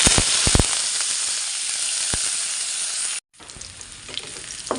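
Sliced onion, green chilli, ginger and curry leaves sizzle steadily in a hot pan, a loud continuous frying hiss with a few sharp pops early on, a brief pause near the end, then softer sizzling resumes.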